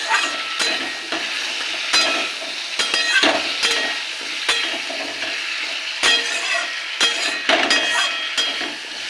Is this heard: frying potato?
yes